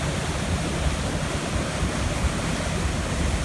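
Water pours off a waterfall into a pool below. It makes a dense, steady roar that holds at the same level throughout, with no talking.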